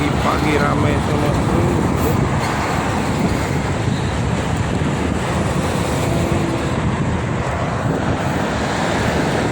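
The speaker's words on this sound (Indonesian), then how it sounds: "Anginnya sangat kencang." Strong wind at the roadside of the Jakarta–Cikampek toll road makes a loud, steady rushing roar that buffets the microphone, with traffic rumbling underneath.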